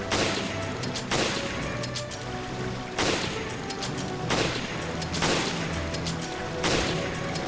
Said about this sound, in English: And then go ahead and shoot him.